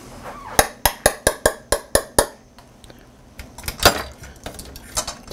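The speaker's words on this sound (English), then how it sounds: "Now here's where the little whisk comes in handy." A small whisk strikes a pot of simmering cauliflower soup, eight sharp evenly spaced metallic clinks followed by looser, irregular tapping and scraping close by.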